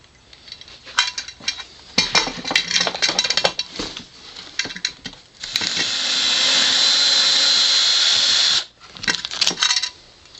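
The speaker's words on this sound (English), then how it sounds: "Put in my 9/64" bit and drill the case." Power drill with a 9/64 inch bit boring into a case: clattering handling noises, then a loud, steady whine of the drill running for about three seconds before stopping, followed by more clatter.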